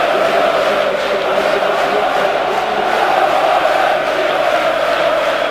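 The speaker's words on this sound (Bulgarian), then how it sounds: "Няма как да не чувате трибуните" Dense, steady roar of a football stadium crowd in the stands cheering during a Levski versus Artmedia match, loud and continuous throughout with no clear individual voices.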